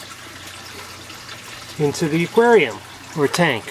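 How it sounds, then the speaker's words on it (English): Water drains from an aquaponic aquarium tank through a bell siphon, a steady low wash of water that is soon covered by someone talking close by. "it drains the water out through the bell siphon, which is just about to finish right now"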